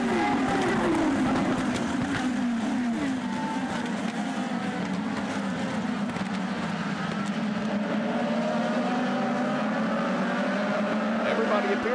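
IndyCar race cars racing at the Alabama Grand Prix road course: a continuous dense roar of engines at full throttle, pitch sweeping as cars pass, with commentators talking over it.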